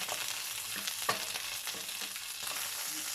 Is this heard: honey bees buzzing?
no